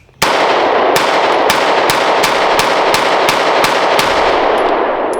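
A Lionheart LH9 Compact pistol fires Winchester white box ammunition in a rapid, evenly spaced string of about eleven loud, sharp cracks, each shot ringing out briefly before the next.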